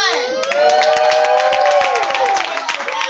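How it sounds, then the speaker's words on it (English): Children cheer and shout with scattered applause at a Vacation Bible School gathering, a loud, close crowd of high voices celebrating the chefs, sustained throughout. "So we give a round of applause and thank you to our chefs."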